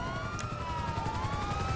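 Police car sirens wail in GTA Online, several overlapping sweeping tones at moderate distance, continuous and steady, with a low engine-like rumble underneath.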